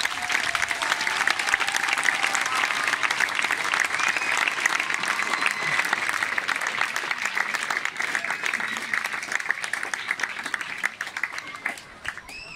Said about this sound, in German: Darum haben sie jetzt einfach schon mal einen grossen Applaus gegeben.